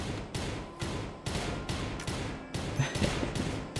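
Gunfire in a shootout in the video game RimWorld, a rapid series of close, loud bursts of shots at irregular short intervals that carries on throughout.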